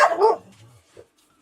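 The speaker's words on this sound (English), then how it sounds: "What's she barking at?" A single short dog bark rings out near and fairly loud aboard a narrowboat, followed by a faint whimper and quiet stillness.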